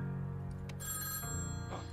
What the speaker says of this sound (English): You can be a phone ringing?